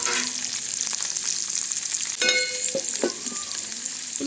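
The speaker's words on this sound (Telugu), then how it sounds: "పోపులు అన్నీ వేస్తానండి" Tempering spices, curry leaves and onion pieces fry and sizzle in a pan for a village-style gongura pasta curry, with close scraping stirs and sharp crackles over a steady hiss.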